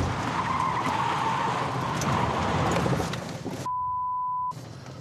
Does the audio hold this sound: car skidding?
yes